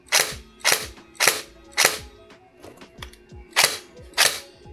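Bohan Tec 9 gel blaster fired dry, giving sharp metallic snapping shots, loud and close, seven in an uneven rhythm roughly half a second apart with a short gap midway, with no talking.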